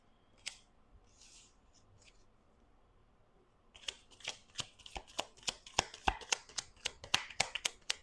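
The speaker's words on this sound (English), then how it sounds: "I'm going to clean up the cards and shuffle again." A deck of tarot cards is handled softly, then riffled repeatedly in rapid crisp bursts close to the microphone, a quick rhythmic series of snaps.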